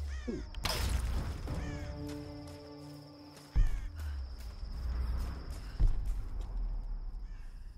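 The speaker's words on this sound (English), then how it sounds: "Bird." A bird caws a few times in the Tomb Raider video game, with harsh calls amid forest ambience, a high steady insect-like tone and a couple of heavier thuds.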